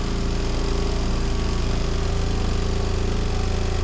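A portable washing machine on its spin cycle, running off an inverter while boondocking, gives a steady, close mechanical hum with a fast, even pulsing vibration that holds unchanged throughout, with no talking.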